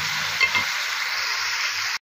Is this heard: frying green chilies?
yes